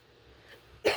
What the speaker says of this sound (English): Because this cough drives me insane.